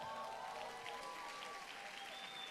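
Congregation applauding during a church service, a continuous wash of clapping at moderate distance that holds steady and even from start to finish.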